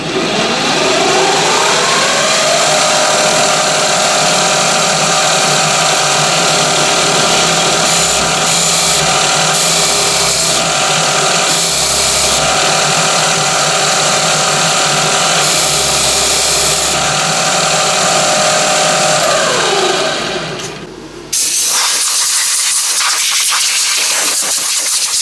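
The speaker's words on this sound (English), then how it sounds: "I'm going to cut a hole with a Forstner bit which is the same diameter as our stock" A Forstner bit boring a hole in a workshop, a loud sustained whirring drone of the drill motor that runs evenly for about twenty seconds, then stops abruptly into near silence with faint scraping.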